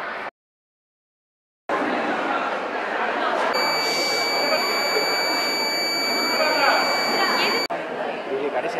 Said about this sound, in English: the buzzer beeps to alert the driver